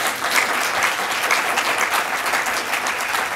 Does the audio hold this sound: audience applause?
yes